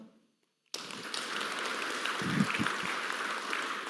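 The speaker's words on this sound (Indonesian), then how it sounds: "tepuk tangan" An audience at an Indonesian presidential address applauds. Dense clapping bursts in suddenly after a short silence and continues evenly at moderate volume, with a few louder thumps partway through.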